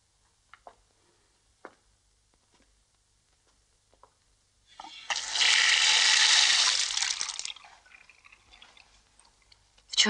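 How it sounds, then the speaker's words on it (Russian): Water gushes from a tap indoors, rising suddenly after a few faint clicks, roaring steadily for about three seconds and then tapering off as the flow is cut. "Включай воду."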